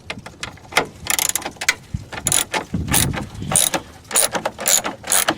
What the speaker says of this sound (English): I will say that this ratchet handle is kind of cheap